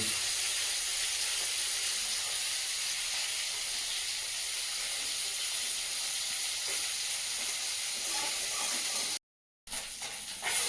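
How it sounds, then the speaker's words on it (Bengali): Loud, continuous sizzling of small river fish frying in hot oil, a steady bright hiss with a brief gap near the end. "মাছগুলো ভাজা হয়ে গেছে, তুলে নেবো।"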